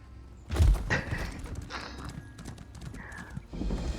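Horse hooves clop in Elder Scrolls Online, heavy thuds landing in uneven bursts with a short whinny-like tone in between, fairly close and moderately loud.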